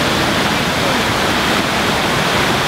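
Water in a waterfall beside a fish display in Las Vegas pours with a loud, constant, rushing roar that fills the whole span without a break.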